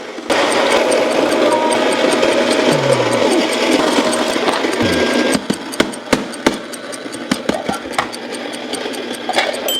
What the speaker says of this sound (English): So once you got your grinder, you're gonna wanna turn it on. And while some grinders are quieter, This one is not.